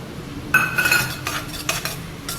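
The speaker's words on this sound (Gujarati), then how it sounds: "હવે કેપ્સિકમ એડ કરી દઉં" Capsicum is stirred in a pan while cooking kaju gotalo with dried garlic. A quick burst of utensil clinks and scraping against the pan sits over a soft sizzle, followed by a few quieter stirring knocks.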